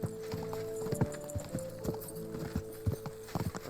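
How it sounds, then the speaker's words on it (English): Horse hooves clip-clop in a quick, uneven rhythm over a steady low hum, with a few heavier thuds mixed in, in the video game Kingdom Come: Deliverance II. "I thought that was a horse just riding on its own there."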